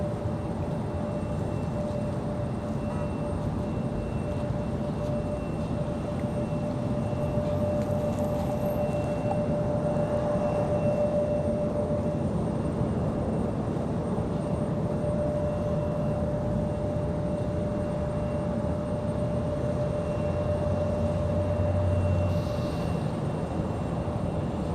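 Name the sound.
JetBlue Airbus A220-300 airliner landing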